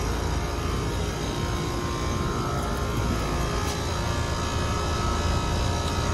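Two 2020 Trane XR14 central air conditioner condensers, 4 and 5 ton units, run together outdoors, giving a steady, loud broadband fan whoosh with a low compressor hum that holds constant throughout.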